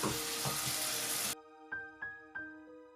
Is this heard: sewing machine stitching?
no